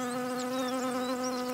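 A bee caught in the jaws of a tiger beetle beside a puddle gives a steady, close, high-pitched buzzing drone that holds without pause.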